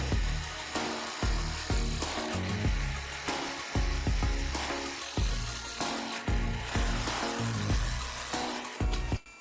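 A 12.5 mm drill bit boring through a steel sheet with a power tool, giving a loud, continuous grinding whine broken by several short pauses and restarts, close to the microphone with no talking.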